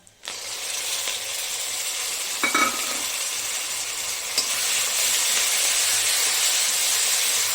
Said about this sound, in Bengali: এই যে আমার নারকেলটা ভাজা হয়ে গেছে এবার মশলাগুলো দিয়ে দেবো